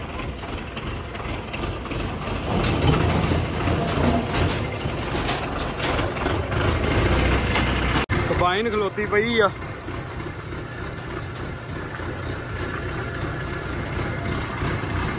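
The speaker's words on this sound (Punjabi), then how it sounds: "ਕੰਬਾਈਨ ਆ ਗਈ ਆ" A combine harvester idles in a farm field, its low, steady engine rumble running throughout while people talk nearby.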